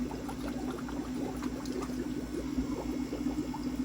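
Fermented plant juice, about half a teaspoon per gallon, poured into brewing compost tea: a soft, steady liquid trickle over a constant low hum, with faint small splashes throughout.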